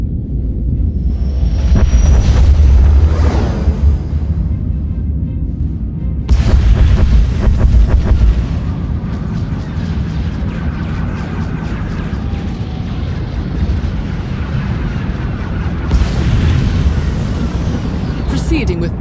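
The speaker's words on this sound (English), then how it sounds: "Proceeding with bombardment, targeting all major population centers." Orbital bombardment strikes Corellia in Star Wars: The Old Republic: deep, loud booms roll in repeatedly over a constant rumbling din, with several large blasts standing out.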